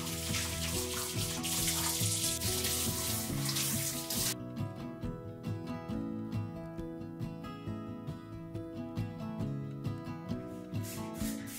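Tap water runs steadily into a sink while containers are washed with dish soap and warm water, a loud continuous splash that drops in level partway through as the flow changes, with faint clinking of the containers.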